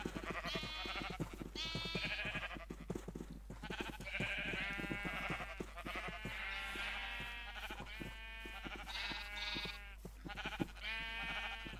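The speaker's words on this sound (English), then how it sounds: "Totally lost count on how many sheep we've let through." Sheep in the Minecraft video game bleat again and again, overlapping loud nasal calls filling the whole stretch with barely a pause.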